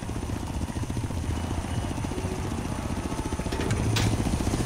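A helicopter in the racing game Forza Horizon 3 gives off a steady, rhythmic rotor chop with an engine drone, holding close and loud and swelling slightly toward the end.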